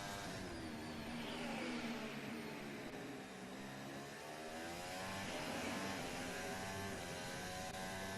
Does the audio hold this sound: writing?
no